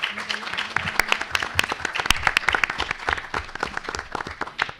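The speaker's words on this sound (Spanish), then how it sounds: "¿Podemos dar un aplauso para el Centro Educacional Goyenechea?" Audience in a hall at a school science talk applauds the Centro Educacional Goyenechea, a crisp burst of many hands clapping with sharp individual claps standing out, steady and fairly close throughout.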